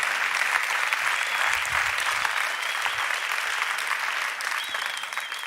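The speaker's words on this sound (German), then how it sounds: "Lieben Applaus für dich." A church congregation claps warmly at an ICF Church service, a steady, full wash of applause holding evenly throughout at moderate loudness.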